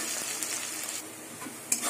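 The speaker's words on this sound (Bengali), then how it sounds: "এবার পেঁয়াজটাকে লাল করে ভেজে নেব" Chopped salted onion browns in oil with a steady, close hiss of frying and the soft scrape of a stirring spatula, and one brief clink near the end.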